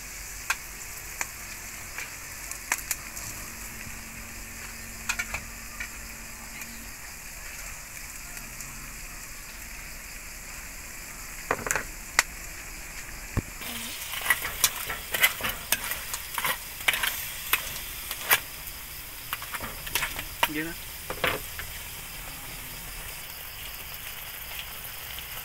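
Crab sauce for sautéed mud crab simmering in a pan: a soft, steady bubbling sizzle throughout, with faint clicks and stirring noises growing busier in the second half.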